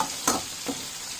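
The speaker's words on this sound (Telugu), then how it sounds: "బాగా వేగేంత వరకు ఫ్రై చేసుకున్నాం." Food frying in a pan, a continuous close sizzle with a couple of brief stirring scrapes.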